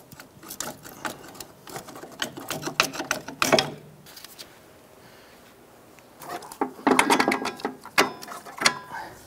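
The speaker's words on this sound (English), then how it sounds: "remove the two bolts holding the strut to the knuckle" Ratchet clicking in rapid bursts while loosening the two strut-to-knuckle bolts on a 2001-2007 Ford Escape, with a pause between bursts, close and moderately loud.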